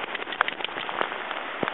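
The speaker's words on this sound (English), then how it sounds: "It's very rainy." Rain falls steadily during a Labor Day hike near a creek, a constant hiss with scattered crackling drops and taps against surfaces close by.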